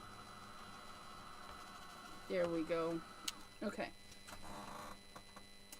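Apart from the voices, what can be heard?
small craft dryer blowing air over paper craft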